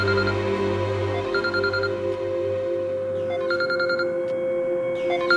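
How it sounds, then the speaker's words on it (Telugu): A mobile phone rings in a home scene of a crime drama, a repeated electronic ringtone of short tonal bursts over a steady hum, heard near and fairly loud without talk. "ఇదిగో ఫోన్ ఇక్కడే ఉంది."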